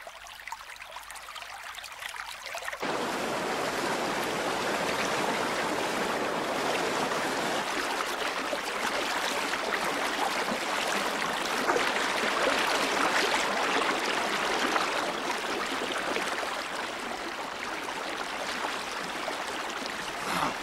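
The River Blackwater flows through the ancient town of Kells in County Cavan, a steady broadband rush of moving water heard close and constant for the whole stretch, with no voices.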